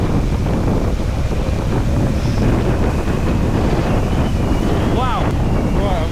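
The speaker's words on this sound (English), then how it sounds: "Wind is crazy." Strong wind roars steadily into the microphone on Snowdon's Llanberis Path in extreme wind and rain, a loud continuous buffeting that fills the whole stretch with no let-up.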